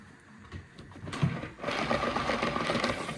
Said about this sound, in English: We'll just give it a heat gun, make sure there's no boo-boos.